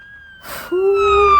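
A video game ambulance siren on PS5 cuts in with a short burst of noise, then a steady, loud electronic wail that climbs and holds close by.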